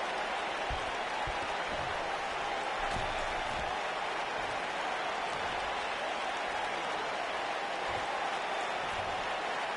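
Steady roar of an arena crowd in the wrestling game WWE 2K19 during a Royal Rumble finale, broad continuous applause-like noise with faint thumps underneath, unbroken throughout.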